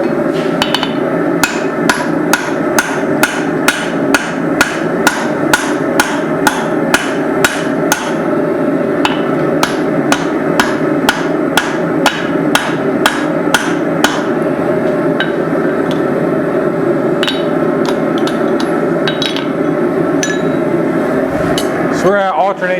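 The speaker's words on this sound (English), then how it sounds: "use a swedge block so I don't flatten out the cheeks I'm trying to make as I hammer the drift in" Steady hammer blows drive a drift into a forged 8 oz hammer head resting on a swage block, ringing metallic strikes repeating at a quick, even rhythm, loud and close throughout with background clatter.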